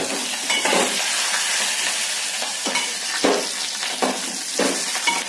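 Capsicum stir-fried in a pan, a loud continuous sizzle broken by repeated scraping stirs and a few sharp knocks of the spatula against the pan.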